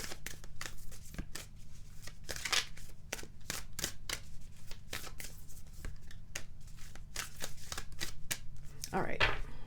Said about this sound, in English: Let's also draw you an herbiary card and see what herb might benefit you this week